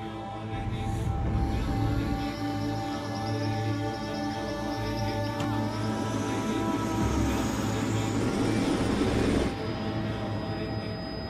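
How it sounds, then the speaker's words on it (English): Steady, loud helicopter rotor and engine drone fills the whole stretch during a flight over Bhutan, a continuous low mechanical roar with shifting hum. "We're flying along in the helicopter,"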